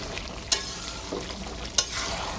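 Chicken with fresh prawn paste sautéed over high flame, a steady close sizzle and frying hiss with two sharp clinks of a spoon or spatula against the pan as it is stirred.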